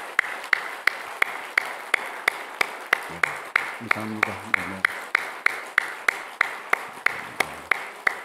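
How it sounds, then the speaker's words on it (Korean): Church congregation clapping in an even, steady rhythm of sharp, evenly spaced claps that carry on throughout, with a voice speaking briefly partway through. "큰 축복의 박수를 보내겠습니다"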